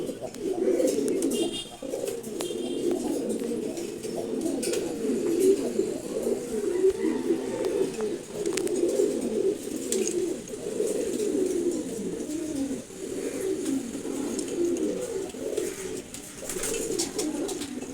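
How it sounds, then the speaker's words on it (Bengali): Silver gola pigeons coo in a steady, overlapping murmur of low throaty calls, close by and continuous throughout. "এই যে সিলভার গোড়া।"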